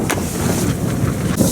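Strong wind at the South Pole roars steadily and close, buffeting the microphone with a constant low rumble and brief gusty bursts.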